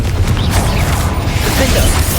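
Confringo fire spell cast in Hogwarts Legacy, a loud, dense burst of crackling, rumbling blast that fills the moment with no voices.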